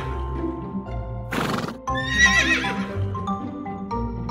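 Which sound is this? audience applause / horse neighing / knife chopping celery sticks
horse neighing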